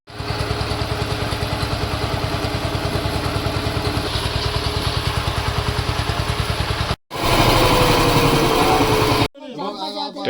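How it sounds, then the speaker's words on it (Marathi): A farm tractor engine runs close and loud in a steady fast chugging rhythm, cutting out briefly, then roaring again before stopping, followed by a short stretch of talk. "आशीर्वादाने आमचं ट्रॅक्टर झालं चालू."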